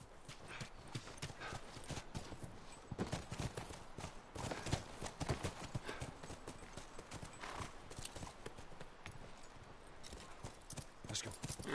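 Horses clop along in The Last of Us, a brisk, continuous patter of hooves close by that runs the whole time, with a voice speaking briefly over it.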